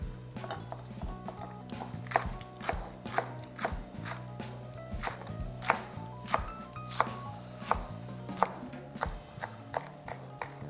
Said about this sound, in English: I'm just going to go ahead and start sort of chopping these up a little bit